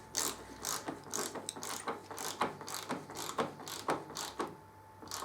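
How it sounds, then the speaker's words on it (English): A torque wrench ratchets as it tightens the steering head bearing nut on a 2013 Triumph Street Triple R to 40 Newton meters, close up, in quick repeated bursts of clicking with short pauses between strokes. "Get a torque wrench. We're going to tighten that up to 40 Newton meters."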